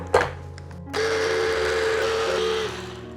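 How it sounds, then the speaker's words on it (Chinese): A blender whirs as it purees pandan leaves with warm water into juice, starting after a short clatter and running as a loud, steady whine that eases off near the end. "等下用搅拌机来搅出斑斓汁。"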